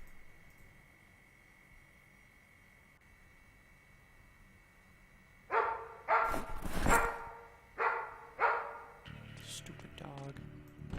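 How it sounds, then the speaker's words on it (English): A dog in the Project Zomboid video game barks in a few sharp, fairly loud bursts after a quiet stretch of low background hum. "Stupid dog."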